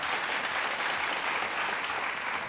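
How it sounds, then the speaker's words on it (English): A studio audience at the Vocal Fusion Season 4 singing competition applauds the host venue, giving an even, sustained burst of many hands clapping that stays level throughout, with no talking. "Quick round of applause for our host venue,"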